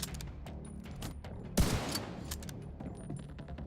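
Gunfire in the shooter game The Division 2 crackles at a distance, with scattered shots and one heavier, louder blast near the middle over a low ambient bed.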